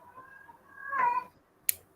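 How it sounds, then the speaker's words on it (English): A pet cat meows in a drawn-out, rising-and-falling call at close range, followed by a brief sharp sound; no one speaks. "God, your cat doesn't know how to shut up."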